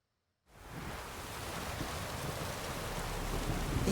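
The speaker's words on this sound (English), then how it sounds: "It's raining, of course it's going to be damp." Steady rain in The Witcher 3 hisses in after a moment of silence and keeps falling evenly, a dense wash of drops with no voices.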